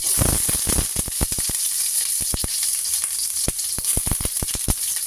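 Garlic and onion sizzle loudly in hot oil for chicken tinola, a steady bright frying hiss broken by repeated sharp crackles and pops throughout.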